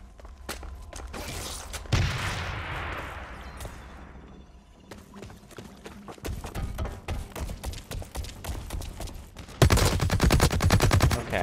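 Gunfire from the video game Blacklight Retribution: sharp single shots and automatic bursts, a whooshing rush partway through, then a loud, sustained rapid-fire volley near the end, with no voices.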